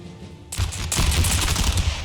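Line infantry ranked three deep fire a musket volley in Empire: Total War. After a brief quiet lead-in, a sudden dense crackle of many shots erupts together and rolls on as a sustained rattling burst.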